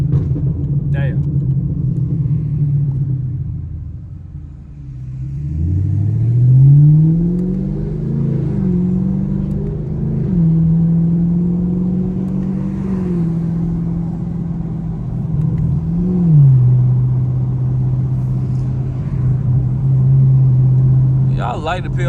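A Chevrolet Camaro SS exhaust drones steadily from inside the car on a night drive, its pitch dipping and climbing as the engine revs rise and fall, with sharp pops cracking near the start and end.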